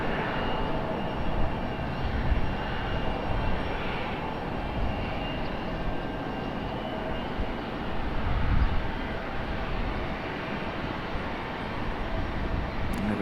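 An American Airlines jet taxis past at Raleigh-Durham airport, its engines producing a steady, broad roar that swells slightly as it passes at moderate distance.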